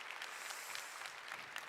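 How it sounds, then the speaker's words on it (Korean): A forum audience at a space-technology talk applauds steadily, a dense continuous wash of clapping at moderate distance with no voices over it. "우레와 같은 박수와 함성 감사드립니다"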